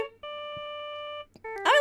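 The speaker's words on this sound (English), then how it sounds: "Is that his ringtone for the judge?" A cellphone ringtone from the Phoenix Wright: Justice For All video game plays a steady electronic beeping tone for about a second, pauses briefly, then resumes before a louder game sound cuts in.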